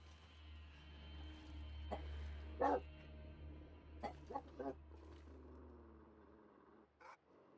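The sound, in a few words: dog barking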